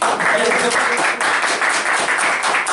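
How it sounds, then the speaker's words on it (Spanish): An audience at a literary talk gives a brief round of applause for author Francisca Solar, dense, close clapping lasting a few seconds, with some voices underneath. "Demos un aplauso a Francisca acá."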